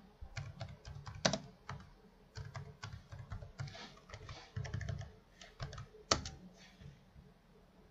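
Steady typing on a computer keyboard, close up, with bursts of quick clicky keystrokes broken by short pauses and an occasional harder key press, with no voices.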